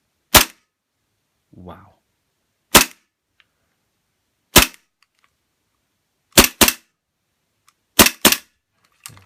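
WE Hi-Capa full metal gas airsoft pistol fired in sharp, loud cracking shots, singles and quick doubles spaced across the clip, with a brief voice in between.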